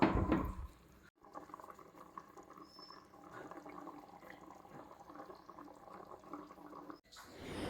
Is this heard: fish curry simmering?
yes